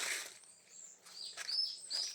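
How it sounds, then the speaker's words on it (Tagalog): Birds chirp and tweet in quick, high bursts at the exit of a historical Japanese tunnel, several calls overlapping over about two seconds, fairly close and clear with little else behind them. "Daming ibon dito mga kaangat, oh."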